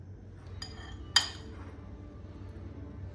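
A chicken salad is tossed in a bowl, giving two brief light clinks, the second brighter and louder, over a quiet room background.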